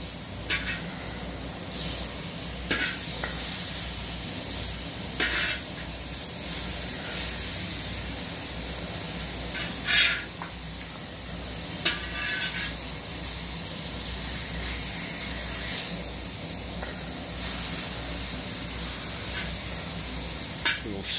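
Steak frying on a discada, a steady loud sizzle and hiss with occasional scraping and stirring clanks at irregular intervals, no talk.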